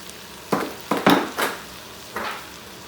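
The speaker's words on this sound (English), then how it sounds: "Stir that up a little bit" A spoon stirring soup with basil and oregano in a pot, five quick scraping clinks against the side, close and distinct over a faint background hiss.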